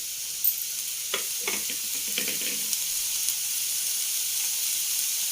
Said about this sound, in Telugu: నాకు పల్లీలు వేసుకుంటున్నానండి.